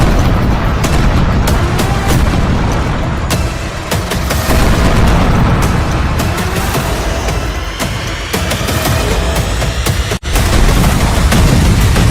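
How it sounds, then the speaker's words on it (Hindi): Heavy booms and blasts from bombs dropped by fighter jets rumble almost without pause, mixed with sharp cracks like gunfire, loud and dense throughout. "जंगी जेट से बरसे बम जब धरती पर फट रहे हैं"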